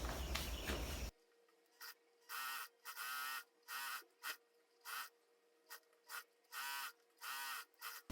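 A sewing machine stitches a dress shirt in short, rapid buzzing bursts, each lasting about half a second, separated by brief pauses. The machine sounds close and fairly quiet, and no one speaks.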